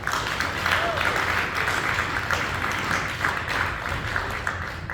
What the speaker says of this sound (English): A round of applause for them as they sit down